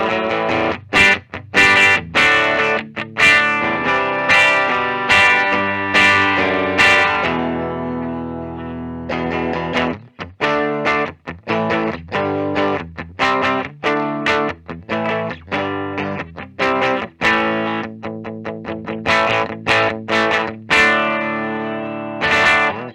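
Epiphone Joe Bonamassa Les Paul electric guitar played through its bridge pickup, with a distorted, effects-laden tone in strummed chords and picked notes, some ringing out and others cut short, loud and close with no voice.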